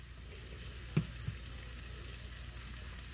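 A pan of peanut butter hoisin ramen with chicken and vegetables gets stirred over a faint, steady sizzle, with two soft spatula knocks close together early on.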